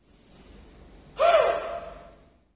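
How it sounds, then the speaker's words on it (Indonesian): A single forceful exhale, close and sharp, follows a maximal deep breath during a breathing exercise for a COVID-19 patient in home isolation; a faint breath precedes the strong burst, which then tails off. "tarik nafas panjang yang maksimal, kemudian lakukan menghela nafas kembali secara kuat."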